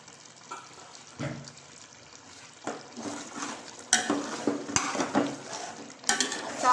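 Chicken liver masala fries in a pan and is stirred with a spoon, giving a soft sizzle under repeated scraping and clinking of the utensil against the pan, with the scrapes growing louder and more frequent.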